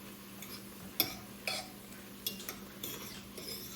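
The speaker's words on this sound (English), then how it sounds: "We're going to give that all a good stir and let that meat finish browning up." A spoon scrapes and clinks against a pan as browning ground meat seasoned with garlic powder is stirred, with several sharp metallic taps spread over a few seconds above a low, steady background hum.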